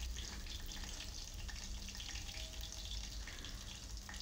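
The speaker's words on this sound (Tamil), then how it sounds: "எண்ணெய் சூடானதுக்கப்புறம் கடுகு சேர்த்துட்டு கடுகு பொரிஞ்ச பிறகு" Mustard seeds splutter in hot oil in a home kitchen, giving a faint, continuous crackle and sizzle with scattered small pops and no talk.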